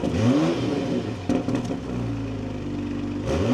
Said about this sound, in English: let's fire this up now, take a listen to how the 340 sounds.